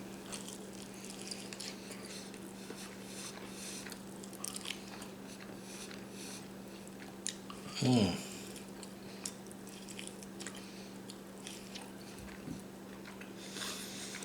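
Injected smoked chicken wings are bitten into once, giving a single brief, close crunch midway through an otherwise quiet stretch over a low steady hum.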